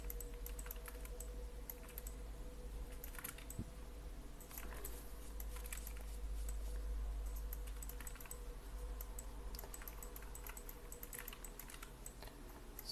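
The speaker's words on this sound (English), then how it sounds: "I'm switching back and forth with a D button on the keyboard" Rapid clicks of computer keyboard keys being pressed during 3D high-poly modeling work, a steady, close clatter of taps with no voices over it.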